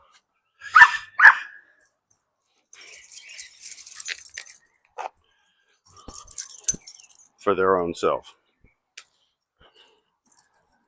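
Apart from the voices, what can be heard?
dog barking at squirrels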